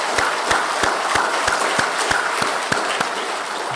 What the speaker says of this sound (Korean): 큰 박수로 환영하시겠습니다.